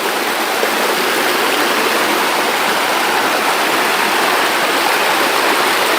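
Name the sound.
flowing river water like showers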